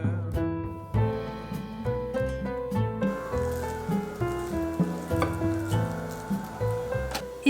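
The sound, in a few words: warm sherbet syrup sizzling as it is poured over hot baklava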